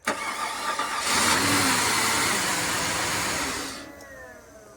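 A flooded 2004 Cadillac DTS convertible engine cranks and catches, roaring loudly up close for a few seconds before settling down toward a quieter idle.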